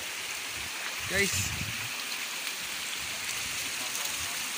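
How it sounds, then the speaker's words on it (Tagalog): Steady rushing roar of a waterfall, constant and full, with a voice briefly calling out near the start over the water. "Wow, kanindot sa falls."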